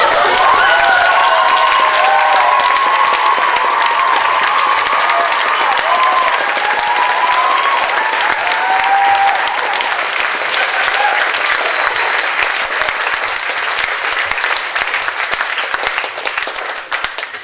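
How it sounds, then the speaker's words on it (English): Resounding applause from a graduation audience greeting the final graduate, Arthur Shevitz: dense, sustained clapping with some cheering, loud and steady for the whole stretch before easing slightly at the end. "So the reason you hear this resounding applause is because Arthur has an amazing ability to bring people together"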